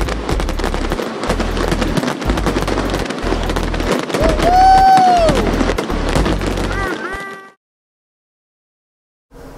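Night fireworks after a Detroit Tigers game crackle and pop in dense rapid bursts with a thumping beat underneath, ending abruptly into near silence.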